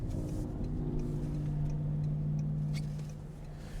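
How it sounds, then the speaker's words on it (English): A 2025 Toyota Camry XSE AWD accelerates with a steady engine hum heard from inside the cabin. The pitch rises as it gains speed, then eases off near the end, and road noise sits underneath. "when you give it a little bit more gas, it has no problem getting up to speed."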